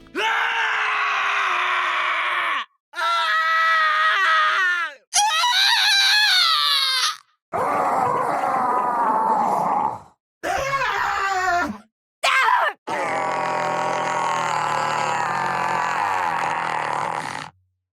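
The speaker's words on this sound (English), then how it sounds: "Several characters have unused scream sound effects labeled for an Akira laser." Unused scream effects for heroes in the game Deadlock, labeled for an Akira laser: a series of loud, drawn-out character screams and wails, each a few seconds long, separated by brief silences.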